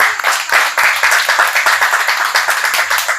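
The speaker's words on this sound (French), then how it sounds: "Je vous prie de l'applaudir s'il vous plaît." A church audience applauds the apostle Liliane Douaka with loud, dense, close clapping that continues steadily, with no talk over it.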